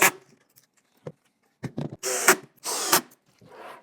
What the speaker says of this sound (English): Simply screw them in.